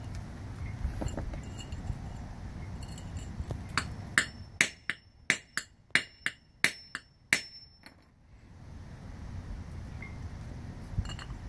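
A metal socket being made by hammering aboard a sailing boat under repair: a rapid series of about a dozen sharp, ringing metallic strikes, close and loud, over quiet background.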